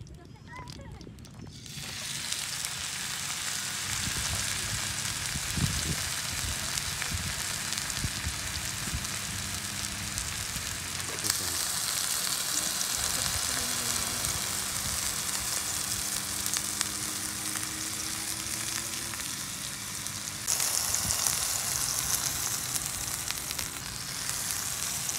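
Steak sizzles and fries in a hot pot in a continuous loud crackling hiss, holding steady throughout with a person talking over it.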